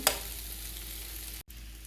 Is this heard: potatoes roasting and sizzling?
yes